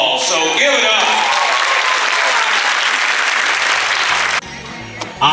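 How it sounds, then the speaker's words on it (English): Loud, dense audience applause at an evening celebration of 50 years of a local softball program, sustained for several seconds before cutting off abruptly, with a voice and brief noises after. "cue the applause"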